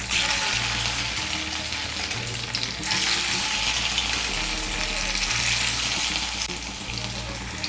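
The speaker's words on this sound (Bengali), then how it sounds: "এর মধ্যে আমি ধোকাগুলো ভেজে নেব।" Dhoka lentil cakes for potol dalna fry in hot white oil in a wok, giving a loud, dense, continuous sizzle close up with faint clicking underneath and no talking.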